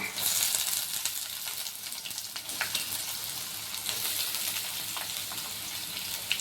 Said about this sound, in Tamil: வெங்காயத்தை எடுத்து போட்டுக்கிறேங்க